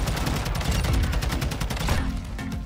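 Dense, rapid gunfire rattles in Call of Duty: Modern Warfare (2022), loud close automatic bursts overlapping almost continuously before easing slightly at the end.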